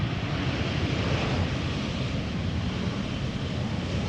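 An airliner arriving to land at Amsterdam Schiphol Airport gives a steady, loud broadband roar of jet engines, continuous and close with no talk over it.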